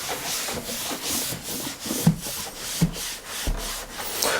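A microfibre cloth rubs over a PC case in rhythmic back-and-forth strokes, soft, close swishes repeating about twice a second with a few light knocks.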